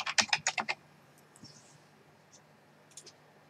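A short burst of typing on a computer keyboard, about six quick, close, crisp keystrokes in a rapid run. A few fainter clicks follow in an otherwise quiet room.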